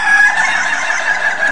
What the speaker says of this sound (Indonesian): Keempat ayam ini ketawanya sama atau beda?